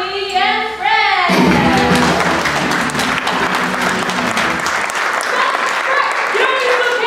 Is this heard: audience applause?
yes